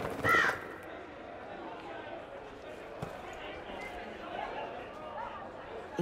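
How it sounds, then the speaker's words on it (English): A crow gives a short, harsh caw in a Dragon Age: Inquisition game scene, one brief call near the start, followed by quiet background ambience with faint knocks. "That is an ugly-ass bird."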